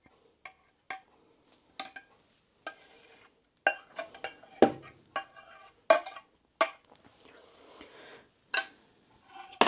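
Porridge scooped from a pot into a bowl at home, heard as a series of sharp spoon clinks and scrapes against metal and crockery, with short pauses between strokes.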